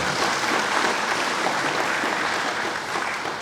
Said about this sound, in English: Give the Mayor another round of applause.